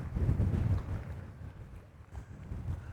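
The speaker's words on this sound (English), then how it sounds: "that is some wind" Gusty wind rumbles and buffets the microphone on a waterfront, loud and low at first, then easing briefly before swelling again, with no speech.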